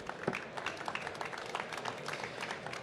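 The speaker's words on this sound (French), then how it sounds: "je voudrais que vous applaudissiez quand même nos intervenants" A conference audience applauds the speakers at an event on mobilizing around biowaste, a dense, even patter of many hands clapping at a moderate distance, fairly quiet and continuous throughout.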